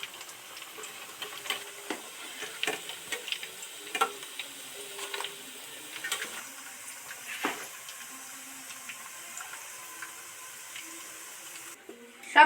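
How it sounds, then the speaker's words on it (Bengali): Besan and potato pieces frying in hot oil, with a continuous soft bubbling hiss and scattered clicks and taps of utensils lifting pieces out, close and fairly quiet. "এবার একটা একটা ভাজা হয়ে যাচ্ছে একটা একটা উঠিয়ে নিচ্ছি"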